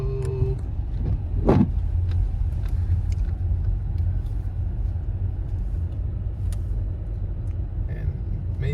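A car drives along a road during light snowfall in Waterbury, Connecticut, with a steady low engine and tire rumble throughout and a brief whoosh early on. No one speaks.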